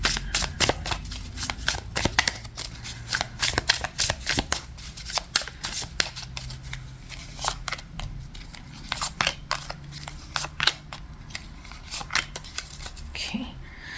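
A tarot deck is shuffled by hand in rapid bursts of crisp riffling and card slaps, repeated many times at close range while a voice talks softly underneath.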